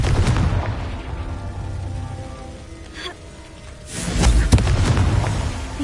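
In the video game Hogwarts Legacy, the Confringo spell goes off as a loud, booming fiery blast that swells and rumbles after a crackling, rain-like hiss.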